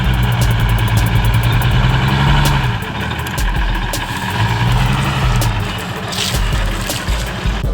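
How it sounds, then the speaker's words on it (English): An old yellow Chevette, heavily loaded, runs its engine while driving across a field, giving a loud, steady low rumble with a slowly wavering pitch that carries on throughout, with no voices. "Watch this fully loaded old Chevette driving through the field."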